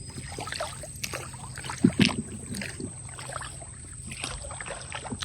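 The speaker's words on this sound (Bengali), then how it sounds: "আমাদের নৌকা ছোট নদী থেকে এবার বড় নদীর দিকে প্রবেশ করবে" A small fishing boat moves along a Sundarban river, with soft water lapping and sloshing against the hull and a couple of louder splashes in the middle over a low background.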